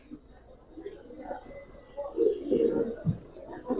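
Giribaz pigeons cooing in a loft, soft low throaty coos in short bursts, faint and close, with someone talking over them.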